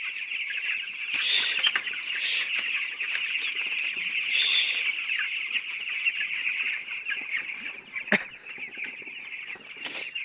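Chickens in a poultry shed cluck and chatter continuously as a flock over a steady high hum, with occasional wing flaps and one sharp knock near the end.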